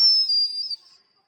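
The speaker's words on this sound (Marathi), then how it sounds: "हे बघ याही शिट्टी बघ" A single sharp, high-pitched whistle blown close by during a roadside stop on a Padghe-to-Mahad foot pilgrimage, held for most of a second, then wavering and fading out into silence.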